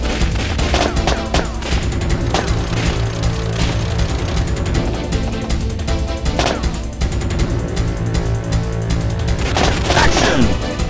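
Gunfire in the Time Crisis light-gun game on PS1, dense continuous loud shooting and mechanical clatter filling the whole stretch.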